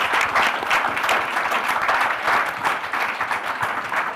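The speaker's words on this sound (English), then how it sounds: "a round of applause for our panelists" Audience at an OECD-KOSTAT statistics conference applauding a panel session, steady dense clapping from a sizable crowd throughout.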